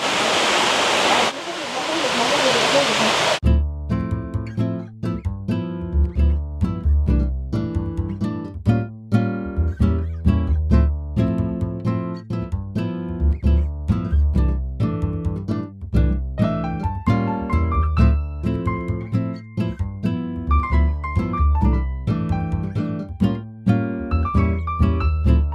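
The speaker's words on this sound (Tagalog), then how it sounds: "Ayun na yung falls oh." Waterfall at Villa Escudero in Tiaong, Quezon: a loud, steady rush of falling water fills the first few seconds, then music takes over for the rest.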